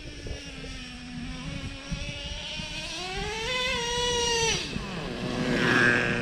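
A Traxxas Revo 3.3 nitro RC truck engine runs loud and near, its whining buzz holding steady and then climbing in pitch as it revs up, dipping back, and rising again.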